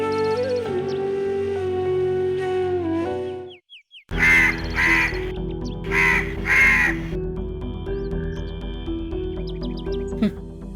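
Crows cawing in a few loud, harsh repeated calls over background music, with other faint chirps and a brief sharp call near the end.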